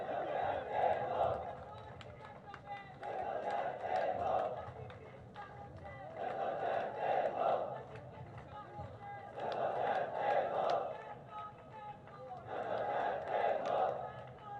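A protest crowd against petrol levies and inflation chants slogans in rhythmic call-and-response bursts, loud group shouts repeating every few seconds with quieter gaps between them, heard from a distance.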